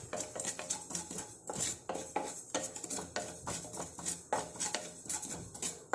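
Black cumin seeds being dry-roasted in a pan, giving busy metallic scraping and clinking of a spoon stirring against the pan in a steady, close rhythm with no talking.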